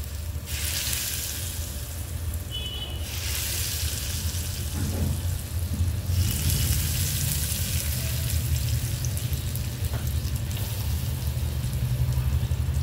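Hot tempering tadka poured into red chilli chutney crackles into a loud, continuous close sizzle, with bright frying hiss rising in bursts and holding on alone without talk.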